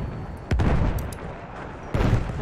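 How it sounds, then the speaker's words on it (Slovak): Gunfire in the World War I shooter Battlefield 1, two sharp close shots about a second and a half apart over a steady rumble of battlefield noise, with no talking. "Sakra, po ňom strieľajú"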